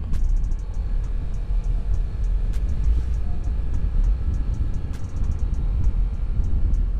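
A Honda Beat 2020 carburetor scooter climbs a slope with a steady, low engine drone and road rumble, a faint periodic ticking riding over it, no speech.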